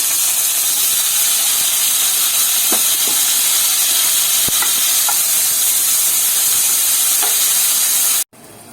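Tomatoes and mint fry in a pan, giving a steady, close sizzling hiss throughout with a few faint clicks of stirring, then cutting off abruptly near the end.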